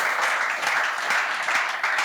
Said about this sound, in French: On peut avoir la réponse avec vos applaudissements